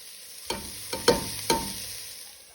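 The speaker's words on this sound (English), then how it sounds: "Now I add in the onion so I can saute it for 15 minutes or 10 minutes to caramelize it." Onion sautés in a heated pan for a Mexican fava bean soup with nopales: a soft, low hiss broken by four distinct spatula scrapes in the middle, then fading to quiet frying.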